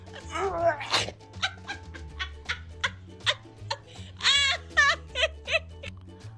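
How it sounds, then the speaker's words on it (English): A dog yaps and whines in a rapid series of short, high, squeaky vocal bursts, fairly close, over a low steady hum, with a giggling, laughter-like quality to some of the cries. "Why was that dog yakking?"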